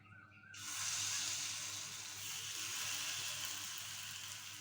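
Rava paniyaram batter hits a hot ghee-greased paniyaram pan with a sudden loud sizzle that settles into a steady, bright hiss of frying, with no talking.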